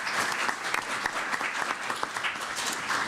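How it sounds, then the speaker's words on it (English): Lively round of applause from the audience at a school district board meeting, many hands clapping in a dense, slightly uneven patter with sharper individual claps standing out throughout. "Let's give them a round of applause."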